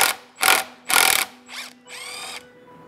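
A ratchet works a bolt out of the rear housing of a Lexus W55 transmission, giving a few short bursts of clicking and whirring, close and distinct, the last one longer and more tonal.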